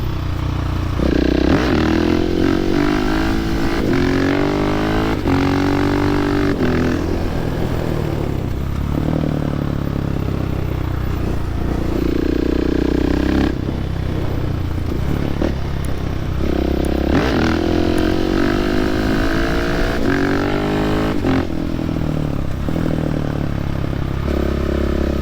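A Husqvarna 701 motorcycle ridden on the road, its engine droning loud and steady throughout with rising and falling revs and gear changes under heavy wind rush.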